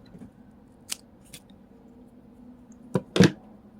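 Scissors snip paper while making a paper clip cover, a couple of quiet isolated cuts followed by a louder double snip near the end against a quiet background.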